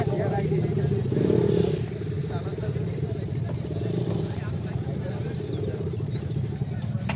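Many motorcycles idling and revving at the Roadtrip United 2021 xBhp bike meetup in Kolkata, a loud, steady engine rumble with a brief surge near the start, while people talk throughout.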